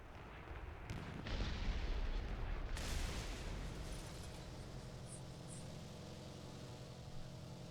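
Bombs dropped from an aircraft in the War Thunder video game explode near moving ships, heavy booming blasts rolling into a sustained low rumble and roar, with no talking.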